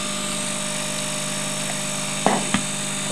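A rotary spark gap prototype with a dual-break rotor spins steadily at 2,000 RPM, giving a constant whirring drone with tonal overtones, broken near the end by two brief, sharp clicks or taps.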